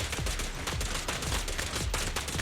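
Rapid, dense gunfire in a video game, a continuous automatic burst of closely spaced loud shots lasting a couple of seconds with no pauses or speech.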